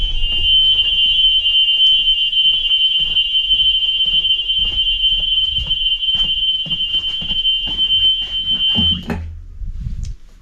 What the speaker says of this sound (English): you're about to hear why the post-trip buzzer is a lot louder than 99